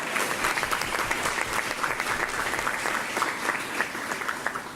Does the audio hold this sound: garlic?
no